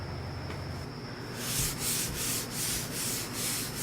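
400-grit sandpaper rubbing across parchment, starting with a soft hiss and then turning to brisk, rhythmic back-and-forth strokes, close up.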